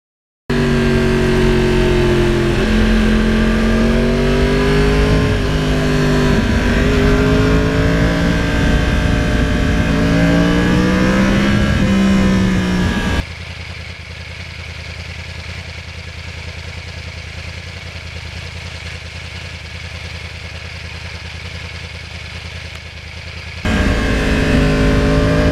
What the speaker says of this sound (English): like about the bike too is the unique cross-plane sound.